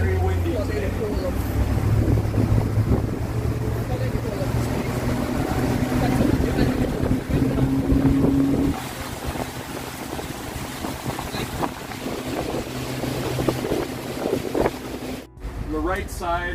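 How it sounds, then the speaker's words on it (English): Strong gusts sweep across the riverside at the Forks in Winnipeg, Manitoba, buffeting the microphone with a constant low rumble while people talk underneath. "Very windy"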